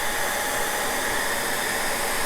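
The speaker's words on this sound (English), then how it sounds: "So we grab our hair dryer" A hair dryer blows steadily while warming Talon grips fitted to a Glock 48, giving a constant close airy hiss with an even whine and no speech.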